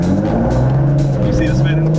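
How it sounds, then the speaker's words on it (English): An Infiniti Q50/Q60 Nismo with a Motordyne exhaust rumbles on a cold start. The engine holds a loud, deep, steady drone close by, and people talk over it. "Bro, why does the Motordyne sound so good?"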